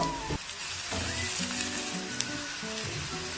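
Onion with turmeric and asafoetida frying in hot oil, a loud continuous sizzle with some stirring scrapes partway through, close and without talk.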